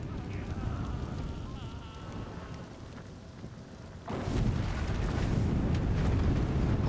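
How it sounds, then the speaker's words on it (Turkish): A deep rumbling blast erupts in the samurai action game Trek to Yomi, a sustained roaring explosion swelling midway over a constant low crackling rumble. "Patlama efekti."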